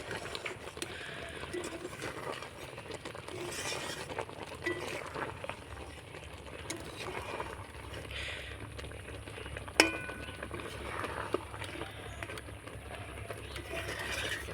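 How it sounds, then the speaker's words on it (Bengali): Raw mango pickle is stirred by hand, producing continuous close scraping and soft wet clatter, with a sharper knock near the end and no talking. "এবার আমি নাড়াচাড়া করে নেব আর হালকা হাতে কিন্তু নাড়াচাড়া করতে হবে নালে আমগুলো কিন্তু ঘেটে যাবে"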